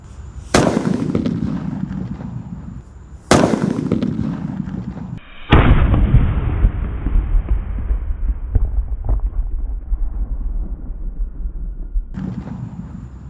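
Three loud bangs from large imported firecrackers, a few seconds apart, each sharp blast trailing off into a long rumbling echo.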